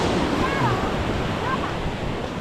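Wind blows hard against the microphone in a continuous rough buzz, with faint voices partly buried beneath the gusts.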